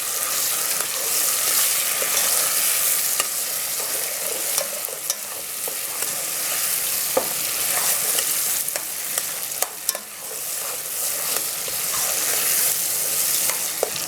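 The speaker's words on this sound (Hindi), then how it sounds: "अब हम साथियों इसमें डाल देंगे अदरक और लहसुन भी और इसको अच्छे से मिक्स कर लेंगे।" Chicken liver frying in a pan with ginger and garlic, stirred steadily: a continuous loud sizzle broken by scraping and clacking stirs, with no voices.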